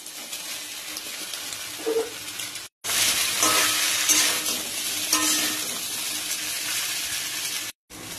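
Paneer and cauliflower sizzle in hot oil with ginger paste and slit green chillies for a Bengali-style bhaja, with a steady, close frying hiss and scraping stirring strokes in the pan after the pieces are dropped in.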